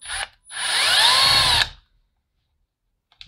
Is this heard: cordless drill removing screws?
yes